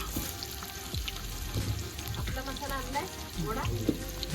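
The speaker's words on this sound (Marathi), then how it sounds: "कढीपत्ता मध्ये फ्राय करायचा आणि आता टाकायला आहे कांदा" Onion frying with curry leaves in a pan over a wood-fired stove on a terrace makes a moderate sizzle with some watery bubbling, clinks and stirring noises, heard close up and without clear talk.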